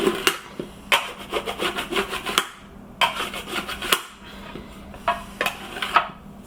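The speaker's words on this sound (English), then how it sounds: "I'm just grabbing my pad and my spatula and just scraping it off" A spatula scrapes repeatedly across a bonbon mold to clear off excess chocolate, with rhythmic rasping strokes in quick bursts and short pauses between them, close and crisp.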